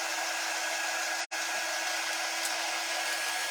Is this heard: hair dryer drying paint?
yes